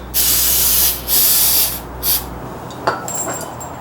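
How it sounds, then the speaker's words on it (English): Several bursts of hissing aerosol spray, each about a second long, close by, cleaning Holley carburetor parts, followed by quieter clinks and faint rustling. "Spray these off."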